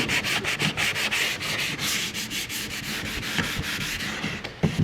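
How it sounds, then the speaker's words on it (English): Rag soaked in acetone wiped repeatedly over an old wooden chair, a rhythmic series of close, quick rubbing strokes, steady then slowing near the end, with no talk. "I will wipe it on down with acetone again on a rag to get the dust and pick up any pieces of wax"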